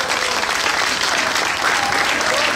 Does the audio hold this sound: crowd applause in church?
yes